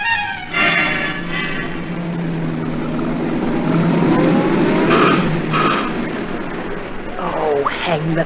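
A car engine rumbles steadily as the vehicle draws closer on a rainy evening, its low drone swelling under a voice, with brief brighter bursts near the middle and end.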